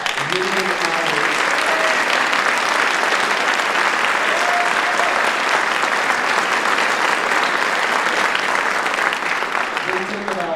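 Loud, sustained applause from a school concert audience at a high school wind ensemble winter concert, dense and steady for about ten seconds, with faint voices and cheers mixed in.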